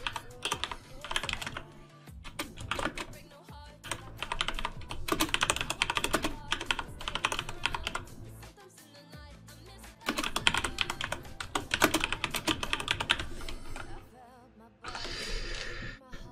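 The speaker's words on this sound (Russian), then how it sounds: "стоит игровая клава, поменял специально на стриме" Rapid typing on a gaming keyboard during a livestream, with bursts of dense key clicks separated by short pauses, close and clear.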